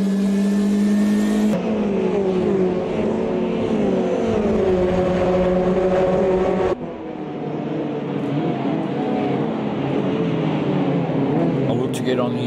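A Ginetta G40 GT5 race car accelerates out of a bend onto the straight on the opening lap, its engine droning loudly from on board and dropping pitch at each abrupt upshift.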